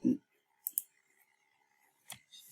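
A computer mouse clicking on a web page button: one sharp close click after a brief low thump, then a second click near the end, with quiet room tone between.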